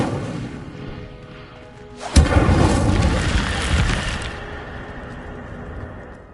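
The Incendio fire spell cast in Hogwarts Legacy, a sharp magical burst that erupts into a loud whooshing, booming blaze lasting a couple of seconds before subsiding into a lower rumble.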